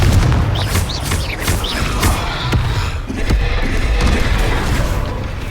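Confringo explosion spells bursting in the Hogwarts Legacy video game, heavy booming blasts with dense rumbling debris that stay loud throughout, accompanied by brief magical whooshes.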